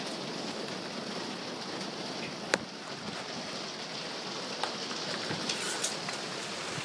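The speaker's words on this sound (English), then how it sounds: "It's raining." Steady rain hisses outdoors during a thunderstorm, a constant wash of falling water with a few sharper drips and taps standing out.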